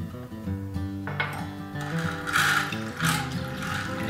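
A hand-cranked egg beater whips two egg whites toward stiff peaks for sour-milk pancake batter, giving a close, steady whirring gear rattle with ratcheting clicks that runs without pause for about four seconds.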